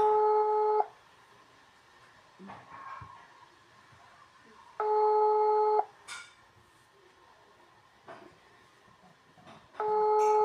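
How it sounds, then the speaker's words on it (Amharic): Phone ringing on a call that goes unanswered: three long electronic ring tones about four seconds apart, moderately loud over faint background noise. "እየጠራ ነው።"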